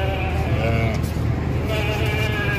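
Sheep and lambs bleat repeatedly while being loaded for transport, wavering calls overlapping in a noisy outdoor setting, with engine rumble and people talking underneath.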